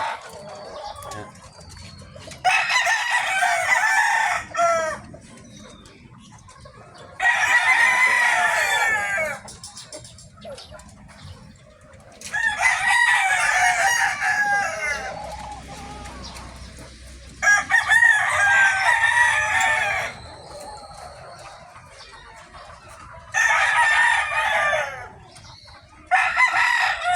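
Roosters crow repeatedly in loud, drawn-out calls about every five seconds, with chickens clucking softly between them and no talking.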